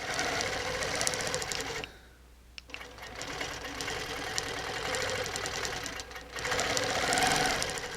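Sewing machine stitching arcs on a quilt, a rapid steady mechanical whir with rhythmic needle clatter, close and loud, pausing briefly around the middle before resuming.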